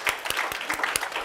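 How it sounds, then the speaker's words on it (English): Audience at a gate portal launch event clapping, a short run of distinct, rhythmic hand claps fairly close and moderately loud, with no voices over it. "Can we give Mr. Makala a big round of applause"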